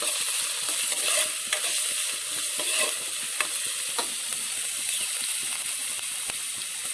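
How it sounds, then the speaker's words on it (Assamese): Ginger garlic paste fries in a pan under constant stirring, a dense, even sizzle punctuated by scattered close scrapes and taps of the spoon, with no voices. "আদা নহৰু পেষ্টখিনি ভালকৈ মিক্স কৰি ভাজি ল'ম।"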